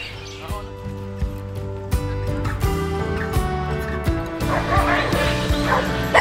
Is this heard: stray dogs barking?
yes